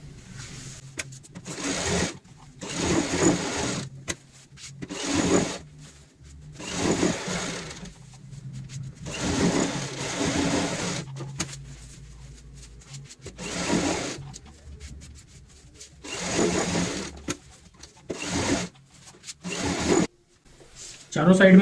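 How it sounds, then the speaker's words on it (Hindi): A sewing machine stitches around all four sides of a pillow cover, joining lining, foam and the main fabric. It runs in repeated close whirring bursts with short pauses between them, and a voice talks in between. "यहाँ पे चारों साइड में सिलाई लगा लेंगे, जिससे कि हमारा अस्तर, फोम और ऊपर वाला मेन फैब्रिक अटैच हो जाए।"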